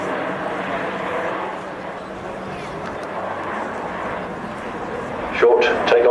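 A turboprop airliner with Rolls-Royce Allison engines and six-bladed propellers flies over an airshow crowd, its steady broad engine roar filling the air at a distance while a loudspeaker commentator talks over it.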